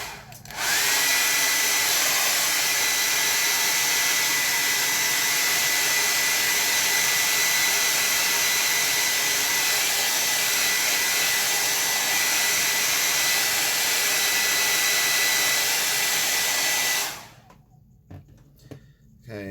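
A hair dryer blows a steady, loud, unbroken whoosh while drying a watercolor painting of buildings, running close for about seventeen seconds before cutting off abruptly into quiet.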